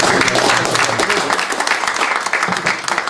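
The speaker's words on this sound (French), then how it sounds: "Je crois qu'on peut encore applaudir cette très belle..." Sustained audience applause at a medical conference session on liver transplantation results, a dense, even wash of many hands clapping together, fairly loud and steady throughout with faint voices mixed in.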